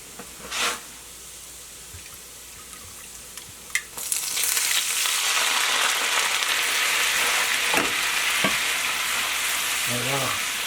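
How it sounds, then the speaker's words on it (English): A quarter cup of dry white wine hits a hot pan of translucent shallots and bursts into a loud, steady hiss of sizzling that continues for several seconds, with a few close clinks and scrapes of a utensil. "we're going to add a 1/4 cup of dry white wine."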